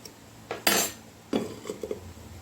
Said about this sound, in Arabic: هنجيب عندي بوله فاضيه او طبق فاضي، هنزل فيها التوابل بتاعتي كلها